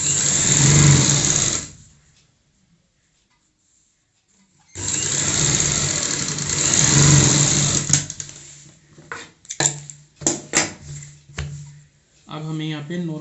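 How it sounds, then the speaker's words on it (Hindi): A sewing machine running basting stitches on a child's frock, two steady bursts of rapid whirring close up separated by a pause, followed by short stop-start runs and handling sounds. "ये हम यहाँ पे कच्ची सिलाई लगा रहे हैं।"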